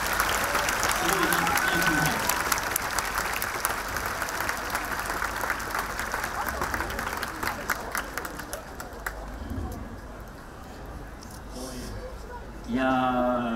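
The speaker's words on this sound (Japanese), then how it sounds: "皆さん、トキダさんに大きな拍手をお願いします。" A large audience at a Kawasaki Frontale football club fan appreciation day claps and cheers in sustained applause that gradually fades, with a voice speaking near the end.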